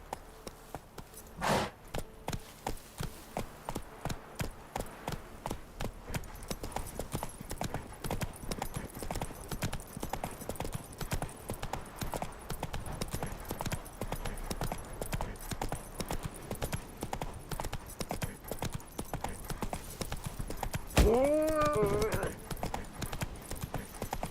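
Horse galloping in The Witcher 3 video game, hooves pounding in a steady rapid clip-clop rhythm that runs throughout, near and loud, with a brief whinny near the end.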